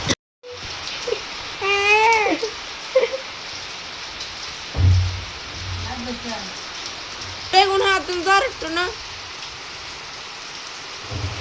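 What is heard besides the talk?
rain falling outside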